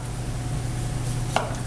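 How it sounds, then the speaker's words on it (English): A kitchen knife cuts butternut squash into chunks on a board, with a faint, steady low hum under the work and one sharp knock near the end. "cut it into chunks"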